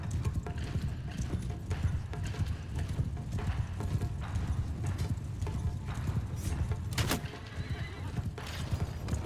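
Horse hooves clip-clopping in the medieval combat game Mount & Blade II: Bannerlord, a dense continuous patter of hoofbeats with horse whinnies and battle noise, steady and moderately loud throughout.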